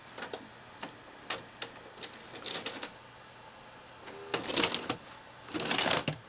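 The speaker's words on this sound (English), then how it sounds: "Let's see if eject works without eating the tape." A 1990 GE two-head VHS VCR ejecting a tape, with scattered faint mechanical ticks building into a louder whirring, clattering rush of the loading mechanism near the end, close up and otherwise quiet.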